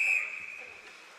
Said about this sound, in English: And the whistle for offsides.